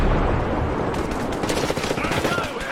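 Sustained automatic gunfire in the co-op shooter Ghost Recon Breakpoint, with Motherland DLC, rattles loudly and continuously as bursts overlap with no break throughout.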